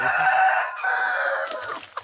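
Chickens on a farm clucking and crowing, a rooster's call rising over dense overlapping clucks, close and loud for two seconds with no talking.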